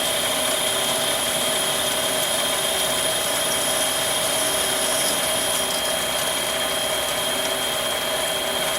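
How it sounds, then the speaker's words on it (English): A metal lathe takes a deep cut on 12L free-machining steel with a high-speed steel tool, producing a steady, loud, unbroken machining drone with thin whining tones held throughout. "Let me take a deep cut."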